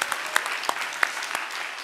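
Applause from a large church seminar audience of around a thousand people, a short patchy burst of scattered claps with a few sharper slaps standing out, moderately distant.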